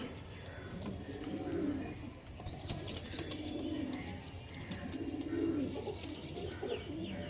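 Domestic pigeons in a breeding-stock sale setting coo repeatedly at close range, overlapping soft throaty calls with scattered chirps and a brief flutter of wings.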